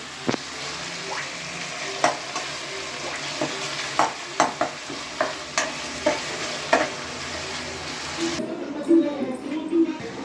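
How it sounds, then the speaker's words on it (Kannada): Tomato masala with ginger garlic paste being stirred in a pan, a sizzling bed broken by regular scraping strokes about once a second, then a voice speaks briefly near the end over the frying. "ಜಿಂಜರ್ ಗಾರ್ಲಿಕ್ ಪೇಸ್ಟ್ನ ಹಾಕಿ ಮಿಕ್ಸ್ ಮಾಡಬೇಕು"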